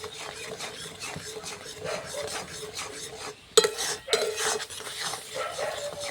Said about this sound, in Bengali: এবার সব কিছু উপকরণ একসঙ্গে ভালো করে মিশিয়ে নেব